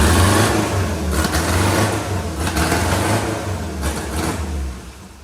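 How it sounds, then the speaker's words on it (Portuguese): A 1974 car engine with a sport exhaust roars loudly close by, swelling in several rev surges before easing down, with no talk over it. "Vamos aqui dar partida no bichão para ver como é que ficou esse ronco."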